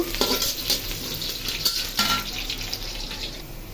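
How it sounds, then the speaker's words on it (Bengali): Onions frying in a small amount of oil in a pan, a steady close sizzle with occasional stirring clinks and scrapes of a utensil against the pan, no voices. "অল্প করে পেঁয়াজ একটু বাগার দিয়ে নিই"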